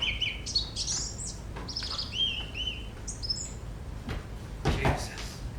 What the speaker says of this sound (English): On reflection, Sergeant Price, I'd say there was a bird. A thrush?